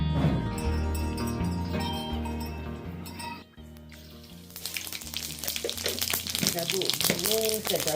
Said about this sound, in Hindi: सरसों और जीरा का तड़का।